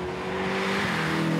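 A Ferrari California pulls away hard in first gear, its engine note climbing steadily in pitch as it revs up, loud and close, with no talk over it.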